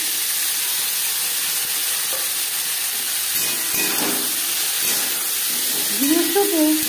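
Teasel gourd slices dropped into hot oil with whole cumin seeds give a dense, steady hissing sizzle with a few clinks of stirring near the end.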